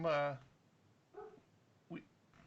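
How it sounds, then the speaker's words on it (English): A dog barks in short bursts in the background: a loud, close bark at the start, then two fainter, briefer yelps spaced across the moment. "have a dog barking, and I apologize for that"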